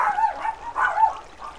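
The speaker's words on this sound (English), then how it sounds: "And the dogs are barking." Dogs barking outdoors, a few loud close barks in two bursts with short yelping tones between, heard alone without talk.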